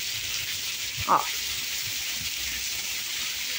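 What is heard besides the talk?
rain falling on desert rose plants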